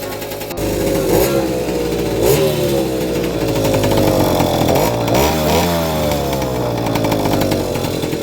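A loud, raspy Opel Kadett engine with a modified exhaust runs close by with a harsh exhaust note, rising and falling through several rev sweeps over a steady idle.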